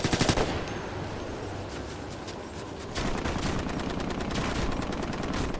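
A fast-firing gun in Ghost Recon: Future Soldier, a quick rattling burst at the start, then quieter background, then sustained rapid automatic fire for the last few seconds, loud and close.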